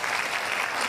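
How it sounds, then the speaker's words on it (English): Audience applause at a Values for Daily Living event in Nigeria fills the whole second as a dense, loud, steady wash of clapping with no gaps or voices. "another resounding applause for VDL"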